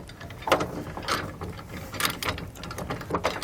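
A MaxxTow MaxxHaul hand winch ratchet releasing strap tension gives close, crisp bursts of metallic ratcheting clicks in several uneven spurts, with no voices.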